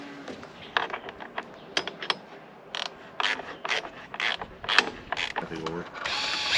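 A hand ratchet clicks in short irregular bursts while snugging a bolt on a planter seed meter, close by and fairly quiet, with scraping and handling noises between strokes.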